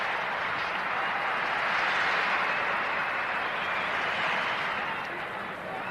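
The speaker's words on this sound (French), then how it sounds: "L'équipe de France applaudie par le public suédois." Swedish spectators clap steadily for the French national football team at a 1989 friendly match in the rain, a broad, even wash of stadium applause heard from a distance without a break for several seconds.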